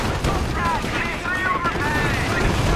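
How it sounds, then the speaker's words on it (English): Gunfire from machine gun teams in a real-time strategy video game, a dense, continuous rattle of distant automatic fire and battle noise mixed with other game effects and voices. "There's a crisscross of pack shots, and 2 of them are still up and firing away."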